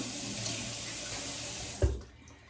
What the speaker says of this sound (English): now I'm going to rinse my face in.